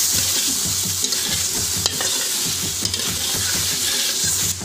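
Green jackfruit being stir-fried with country chicken and spices, a loud close sizzle with rapid rhythmic scraping of a spatula across the pan throughout, no talking.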